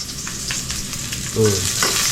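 Onions fry in hot oil with a strong, continuous sizzle and intermittent stirring clatter close by, the sizzle briefly intensifying midway.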